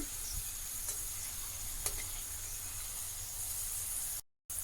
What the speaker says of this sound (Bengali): ফ্রাই করা পটেটোগুলি সব উপরে তেলের উপরে ভেসে চলে এসছে।